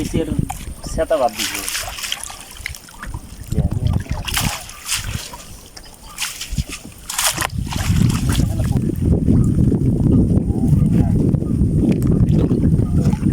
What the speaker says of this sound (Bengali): দেখতে পাচ্ছেন আস্তে আস্তে পানির ঢেউ আরো বড় হচ্ছে